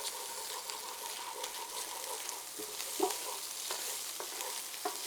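Pork sausage frying in a pan, a steady close sizzle with occasional scrapes and taps of a utensil as it is stirred.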